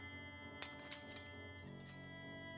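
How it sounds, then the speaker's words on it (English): Window glass being removed in the Project Zomboid video game: a few light glassy clinks and chinks over a steady low game hum, with no talk. "Let's go ahead and remove the glass."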